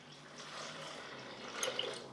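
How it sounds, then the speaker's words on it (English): Water poured into a blender jar over soaked almonds, a faint, quiet trickle and splash lasting about two seconds, with a few small bright drips near the end. "So water goes in here"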